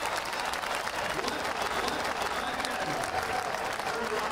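Drag racing crowd in the NHRA grandstands applauding after a funny car crash, a steady broad wash of clapping with no distinct claps standing out, holding evenly throughout at moderate level.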